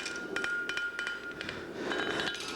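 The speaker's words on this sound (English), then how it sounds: "tip it back, just a little tap, just the weight of the hammer" Light hammer taps in shoemaking, a string of about eight quick, sharp metallic ticks, some in close pairs, ringing over a steady background hum in a workshop.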